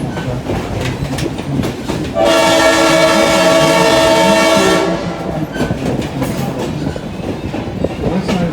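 Hocking Valley Scenic Railroad train rolling steadily with a loud, sustained horn blast of about two and a half seconds midway, wheel and car noise continuing before and after.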